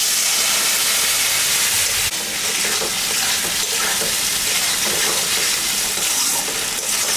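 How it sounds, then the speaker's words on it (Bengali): Ginger, cumin and dried chili paste frying in a pan with turmeric, the base for a home-cooked paneer and soybean curry, gives a loud, steady, close sizzle with faint stirring and no talking. "মশলাটা ভাজা ভাজা হয়ে আসছে।"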